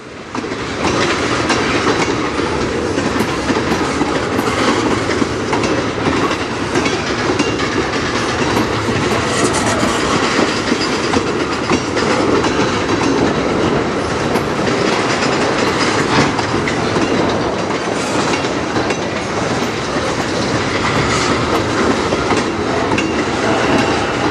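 A train rolls over the Strathroy Sub line, loud and close, with a continuous heavy rumble and rhythmic clickety-clack of wheels on rail joints sustained throughout, and no talking.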